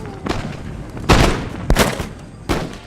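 A musket volley fired by soldiers in the Empire: Total War video game, several heavy overlapping booms in quick succession over a rumbling battlefield backdrop.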